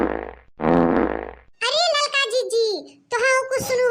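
Two loud, buzzy farts blurt out back to back in a rustic comedy sketch, followed by a child's high-pitched voice chattering close by.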